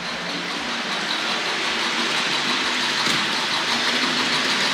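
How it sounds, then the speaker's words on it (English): A Hornby model B12 locomotive running on a model railway layout, a continuous close rumbling rattle of wheels and motor with faint clunks as it passes over the point work, and no talking. "Sound like a bit of a clunk over the point work then."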